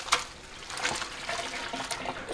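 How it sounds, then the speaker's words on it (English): Water draining from a pot of boiled instant noodles (4 packages) into a sink, a steady broadband splashing and trickling with a few louder surges, close and continuous. "drain out all the water."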